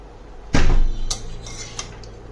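A metal lid lands on a cooking pot of Bengali lau shak chorchori with one loud, close clank and a short ringing tail, followed by a few lighter taps.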